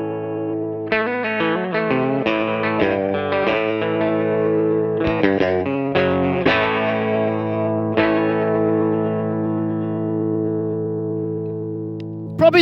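Guitar played through a Minson M8 multi-effects pedal with a modulation effect's speed turned high, giving sustained distorted chords and notes with a fast warbling chorus-like shimmer, loud and steady throughout, ringing out toward the end.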